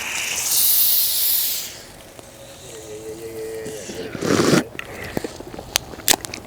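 A drink can is cracked open during a goose hunt, giving a sharp hiss and pop close by after a burst of louder noise, with people talking around it.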